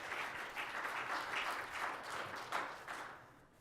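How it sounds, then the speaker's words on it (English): Sustained audience applause at a travel industry conference, many hands clapping steadily in a full room before fading toward the end. "So, round of applause."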